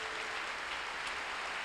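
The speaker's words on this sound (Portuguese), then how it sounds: "Você pode aplaudir a Jesus aí." A church congregation applauds for Jesus, dense, even clapping filling the room at a steady moderate level from start to finish, with no voices on top.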